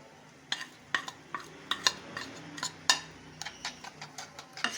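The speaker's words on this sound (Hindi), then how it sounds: "अच्छे तरीके से हमने इसको फेंट लेना है।" An egg and noodle omelette mixture is beaten in a bowl, with a quick run of irregular clinks and taps from the utensil against the bowl over a soft background, with no speech.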